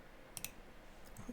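Two quick, soft mouse clicks close together, faint and crisp, against a quiet background with no talking.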